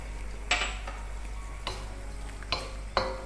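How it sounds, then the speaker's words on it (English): Utensil scraping and clinking against a pan as chicken pasta sauce seasoned with black pepper, salt and crushed chilies is stirred: a few distinct scrapes and taps spaced out over a low steady hum, fairly quiet and close. "Give it a good mix."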